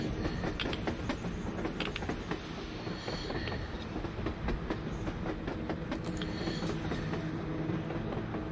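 A train passes on the surface in a video game, rumbling with rhythmic clickety-clack of wheels on rails and occasional metallic squeals, steady and fairly loud throughout.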